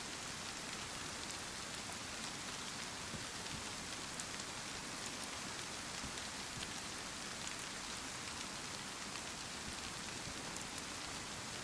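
Rain pours down in DayZ on the Chernarus map, a dense, even hiss of drops that holds without a break and sounds faint and distant, with no voices.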